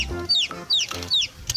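Chickens cluck in a quick series of short calls, close and distinct, with no talking over them.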